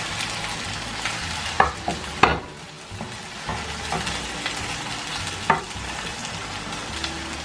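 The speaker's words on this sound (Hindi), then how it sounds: "1 मिनट भूनेंगे" Tomatoes, green chillies and masala being stirred and sautéed in a pan for chicken tikka biryani, a steady close sizzle broken by several sharp scraping clinks of a spoon against the pan, with no voices.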